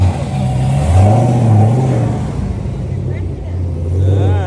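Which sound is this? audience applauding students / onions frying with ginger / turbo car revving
turbo car revving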